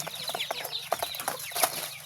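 Pet chickens at feeding time around lunch, giving a busy run of short, close clucks with no voices.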